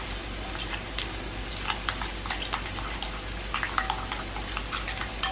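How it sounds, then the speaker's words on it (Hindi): Garlic fries in hot oil in a pan, a continuous close crackling sizzle with scattered pops and spits over a low steady hiss, no voices. "इसको भी हम भून रहे हैं, इसको भी फ्राई कर रहे हैं"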